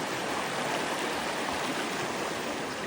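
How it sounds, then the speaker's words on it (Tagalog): A clean river rushes steadily near Piapi Falls in Quezon province, a dense, unbroken wash of flowing water heard close and alone with no voices. "Napakaganda ng ilog. Napakalinis."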